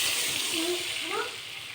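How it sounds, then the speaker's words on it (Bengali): Water poured into a cooking pan of browned, oil-separated curry, a short close gush and splash lasting under two seconds, with a few brief sweeping tones over it. "এবার আমি জলটা ঢেলে দেব।"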